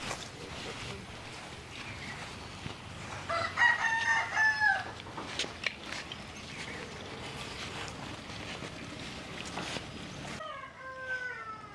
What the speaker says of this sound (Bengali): আমরা যে মোরগটা কিনেছি সেটা ওই এখনো রান্না হবে না